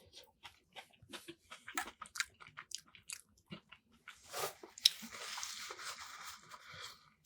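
Close, repeated chewing of slightly crunchy, undercooked potatoes in West Indian food: irregular crisp bites and wet mastication, growing denser and louder toward the end.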